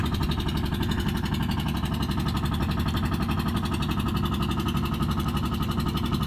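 A big 4BR engine fitted with an exhaust pipe chugs steadily nearby, its loud, even, fast-pulsing rumble holding constant throughout without any voices.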